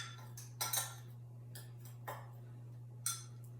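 A utensil scrapes and clinks against a bowl while a vegetable mixture is stirred, giving a few sharp, separate knocks over quiet room hum.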